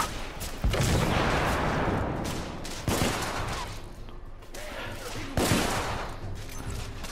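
Gunfire in the video game The Order: 1886, with sharp, loud shots landing about every two seconds over a dense, rumbling battle backdrop.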